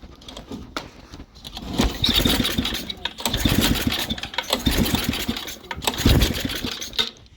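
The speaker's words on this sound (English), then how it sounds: "So put the choke on and prime it a lot and give it a few pulls." Snowblower engine, choked and heavily primed, being pull-started several times, with repeated bursts of cranking and sputtering firing that rise and fall close by, no one talking.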